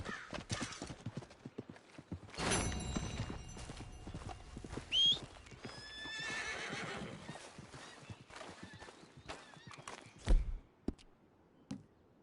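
Horse hooves clip-clop steadily on a trail in Red Dead Redemption 2, with a horse whinnying loudly partway through and another snort near the end, over a soft ambient game soundscape.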